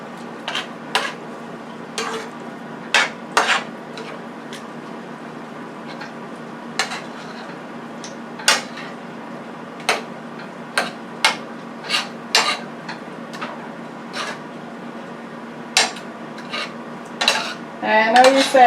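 Metal utensil clinks and scrapes against a frying pan as meat sauce with sausage and ground beef is stirred, irregular taps spread over nearly twenty seconds above a faint steady hum, with no talking.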